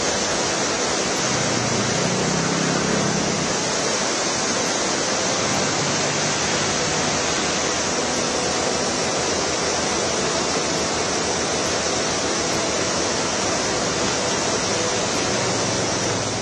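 Roaring floodwater from a swollen river during heavy monsoon rain in Himachal Pradesh, a loud, steady broadband rush that holds unbroken and close for the whole stretch, with no voices.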